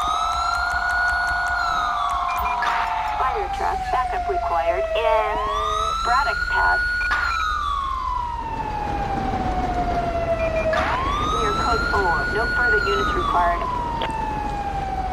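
An ambulance siren in the Grand Theft Auto 5 video game wails in long rising and falling sweeps, loud and continuous, with faint overlapping yelp bursts and a steady engine rumble beneath.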